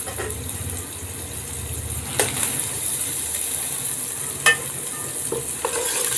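Chopped onions frying in ghee in a handi pot, a steady low sizzle with occasional stirring scrapes and clinks, close and continuous with no talk.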